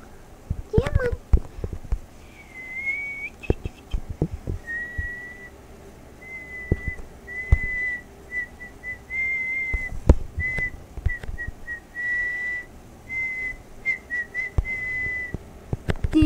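A person whistles a song tune in sustained phrases through a Minecraft play session, with clicks and game sounds, and talk at the start.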